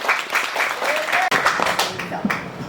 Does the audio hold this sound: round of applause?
yes